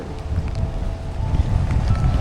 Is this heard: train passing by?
no